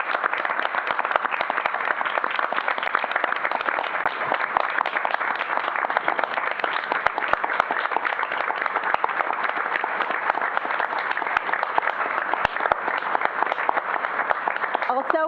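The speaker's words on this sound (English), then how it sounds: "let's have one final round of applause for all of our 2017 IPS Vals and Sals" Audience applause at a school board meeting honoring the 2017 valedictorians and salutatorians: dense, steady clapping from a crowd filling the room without a break for about fifteen seconds, with no talk over it.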